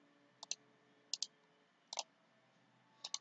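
Computer mouse right-clicks, four quick double-click pairs spaced about a second apart, crisp, close and quiet against a faint hum.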